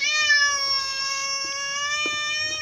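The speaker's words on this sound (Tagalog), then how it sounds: "Ang ingay ng pusa." A cat meows in one sustained, drawn-out wail, close and steady, heard indoors during a home meal of boiled string beans and eggs.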